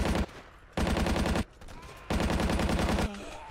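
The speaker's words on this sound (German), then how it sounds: "Ich höre die Schüsse." Automatic gunfire from the Stalingrad battle in Battlefield 1942 rattles in two long sustained bursts separated by pauses, loud and close, with a brief quieter stretch of shots between them.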